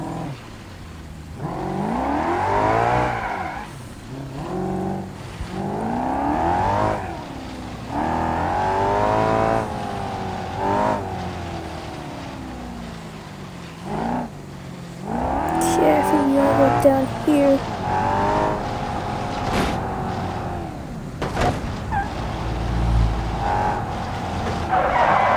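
A car in BeamNG.drive races through heavy traffic while escaping floods, its engine revving and surging as tires squeal and skid again and again, with a voice talking over much of it.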